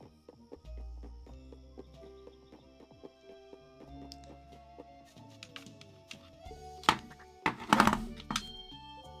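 Hammer blows striking a cannon in the Pine Hearts video game, a few soft thunks early on and then a louder cluster of sharp metallic hits near the end, over quiet game music.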